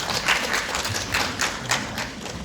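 A seminar audience at a Korean Buddhist studies conference claps to welcome a presenter, a light scattered patter of hands with soft thumps, moderately near and fairly steady, without talk.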